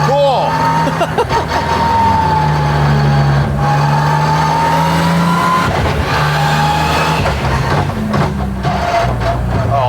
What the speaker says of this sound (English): the one big drawback to a sequential transmission on the street is the straight cut gears make quite a bit of noise